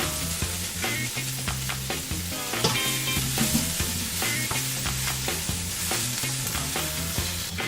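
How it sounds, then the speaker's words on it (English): Big chunks of celery and celery root fry in a pan for an oxtail dish. A loud, close sizzle runs throughout, broken by repeated clatter from stirring, with no voices. "Now celery and celery roots in."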